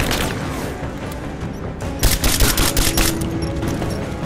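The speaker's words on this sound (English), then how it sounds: "I'm under fire!" Gunfire in the video game Rise of the Tomb Raider, a dense, continuous fusillade of shots that grows louder and more punchy about halfway through, with no talk.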